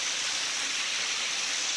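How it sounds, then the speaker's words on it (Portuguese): A small waterfall in Serra do Mendanha park, Bangu, sends up a steady, even rush of falling water. The sound is constant and fairly close, with no voices over it. "Aqui, mais uma queda de água aqui."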